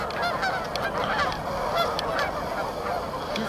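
A flock of geese honks continuously at a wilderness park, with many overlapping calls forming a dense, steady chorus at close to moderate range.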